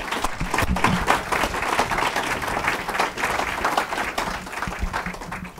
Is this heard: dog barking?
no